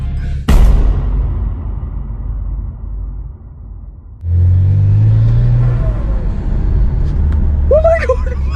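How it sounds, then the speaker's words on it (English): BMW 335i exhaust revving: a sharp crack, a fading rumble, then a deep rising rev with pops and burbles, loud and close. "I'm finally gonna have BMW pops."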